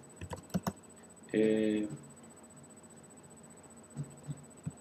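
A few light keystrokes clatter on a computer keyboard while someone enters Python code. A brief voiced sound cuts in midway, and a couple more faint taps follow.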